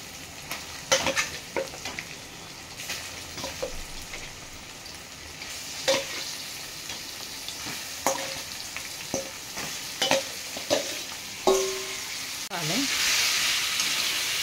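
Chicken hits a pan of softened onion, ginger-garlic paste and curry leaves, frying with a steady sizzle broken by repeated clanks and scrapes of a stirring spoon, the hiss swelling louder near the end.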